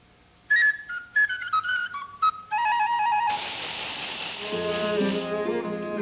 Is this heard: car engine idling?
no